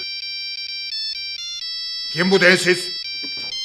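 A mobile phone ringtone rings in a classroom, a steady repeating electronic melody that runs through the whole moment while a voice briefly talks over it.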